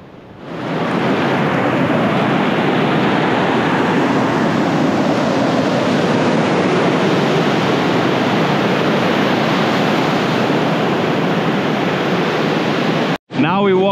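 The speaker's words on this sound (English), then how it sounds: "so we can take a walk along the beach, maybe take a dip in the water" Ocean surf breaking on a beach in Bali roars loudly and steadily, heavy with wind buffeting the microphone, before cutting out abruptly just before the end.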